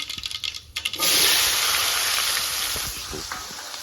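Spices, including mustard seeds, hit hot oil for a vaghar tempering. After a second of light clatter, a loud hiss bursts out, then settles into a steady sizzle that slowly eases.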